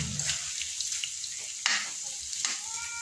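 Ginger sizzling in hot cooking oil in a pan, with a steady fry hiss and a few louder stirring scrapes partway through.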